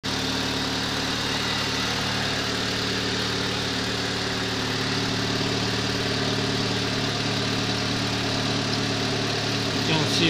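Renault Laguna 1.6 16V petrol engine idling steadily while warming up after a timing belt and coolant pump replacement, a constant low hum with even mechanical ticking, close and unbroken throughout.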